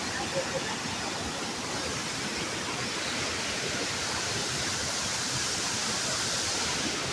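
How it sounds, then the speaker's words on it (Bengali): Jonha Falls, a waterfall near Ranchi, roars as a steady, broad rushing wash of water, heard from a viewpoint above after heavy flow, continuous and even throughout with no voices. "নিচে দেখা যাচ্ছে জোনা ফলস, অসম্ভব সুন্দর।"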